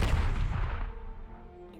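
A cannon in a video game fires after its fuse is lit, giving one loud, deep blast that rolls off into a long fading rumble.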